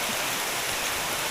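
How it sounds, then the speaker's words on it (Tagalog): Steady rain pours down nonstop, a dense, even hiss of water on surfaces close by, heard alone without any talking. "Walang tigil na po ang ulan."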